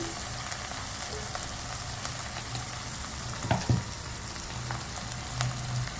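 Turmeric and other ground spices fry in oil with softened tomato and onion for a Bengali katla fish curry, a steady close sizzle with a couple of brief scraping stirs midway and no talk.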